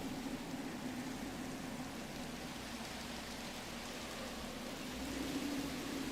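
Steady rain falls in a modded video game world, a soft continuous broadband hiss with a faint low hum beneath, even and unbroken throughout with no voices.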